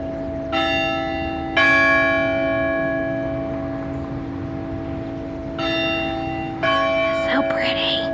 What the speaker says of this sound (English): That's the Methodist church bell.